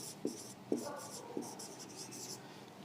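Chalk or marker strokes forming a word on a classroom board, a few short scratchy taps and strokes spaced out over a quiet room, close and fairly faint, with no talking.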